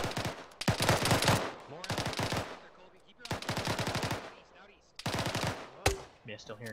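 Gunfire in the video game Arma 3 during a convoy ambush comes in three long, rapid automatic bursts, loud and fairly close, with a single sharp shot near the end.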